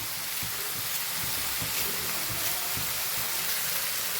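Carrot, cabbage and tomato sambharo cooking in a pan, a steady soft sizzle with light crackling throughout, no talking.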